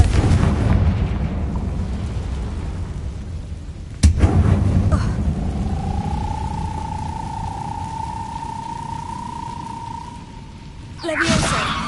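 Confringo fire spell going off in Hogwarts Legacy: a sharp blast, then a sustained rumbling roar with a rising whoosh that settles into a steady hum, ending in another loud burst.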